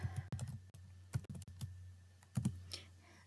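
Typing on a computer keyboard, with quiet, close, irregular clusters of key clicks and brief pauses between them, heard alone.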